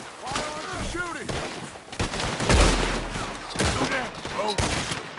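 Rapid gunfire crackles in repeated bursts during a Red Dead Redemption 2 shootout, mixed with shouting voices and loud impacts.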